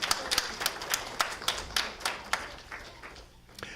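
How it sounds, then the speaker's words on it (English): A congregation applauding at a Sunday service, a modest crowd clapping steadily in a room, moderately loud at first and fading toward the end. "Let's give them a round of applause."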